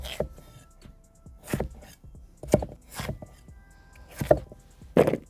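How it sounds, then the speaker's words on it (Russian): A knife cuts potatoes into large chunks on a board in a handful of separate thuds, spaced apart and close by, with quiet pauses between. "Картофель крупными кусками."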